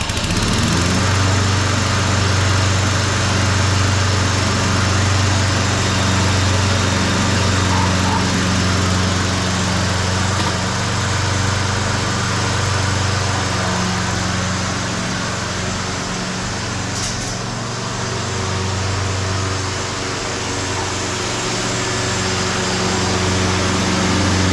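A Husqvarna HU725AWD self-propelled lawn mower engine runs loud and close, a steady droning hum holding constant throughout with no voices.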